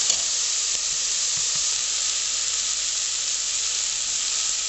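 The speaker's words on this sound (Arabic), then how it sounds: "بعد ما قلبنا اللحم شوي حطينا البصل، رح نخليها شوي هيك حتى تدبل" Meat and onions fry in a pot for Moroccan harira soup, giving a loud, continuous, close sizzle with a few faint stirring knocks underneath.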